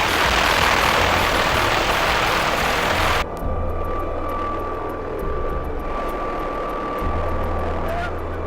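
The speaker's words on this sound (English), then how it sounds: "we're going to hop in that helicopter" A loud helicopter rotor and engine roar fills the first few seconds, then cuts to a quieter cabin hum with steady whine and faint talk.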